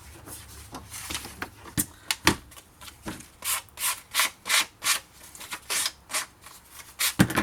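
A worn blade cuts through thin scrapbooking paper in a run of close, rasping strokes, about a dozen short scratchy bursts in steady rhythm, heard alone and near.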